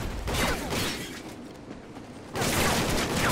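Rapid bursts of automatic gunfire in the video game Call of Duty: Ghosts, loud and close, with a brief lull before another dense volley.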